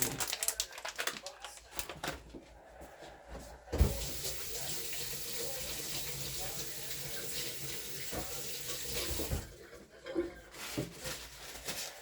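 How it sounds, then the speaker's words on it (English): Hands rinsed under a running tap, water splashing steadily into a sink at close range for several seconds, with faint handling noises before and after the flow. "I'm gonna kind of rinse my hands a little bit."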